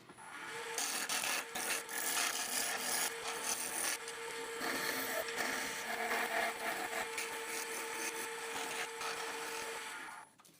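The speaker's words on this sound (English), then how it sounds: "use a peeling cut with the skew to remove all the waste in between" Skew chisel taking a peeling cut on a wood lathe, a steady scraping, rasping hiss of blade on spinning wood that runs for about ten seconds over a constant motor hum, close and fairly loud.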